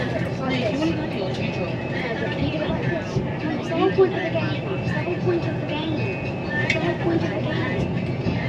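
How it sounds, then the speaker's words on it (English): A train ride to Bangkok, Thailand, with a constant rumbling carriage drone and rattling on the rails under nearby chatter throughout. "I'm back on the train to Bangkok."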